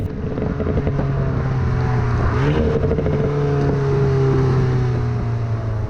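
Turbocharged Alpine A110 engine revving with a deep, gargling, throaty tone, a steady loud drone that rises in pitch midway through a rev, continuous throughout with no talking.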